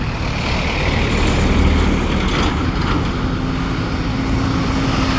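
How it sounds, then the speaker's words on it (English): Steady road traffic in Lamphun, Thailand, a continuous dense rumble of passing trucks, cars and buses with an occasional hiss of air brakes, loud and unbroken with no talking. "Sounds noisy at the moment with all the traffic"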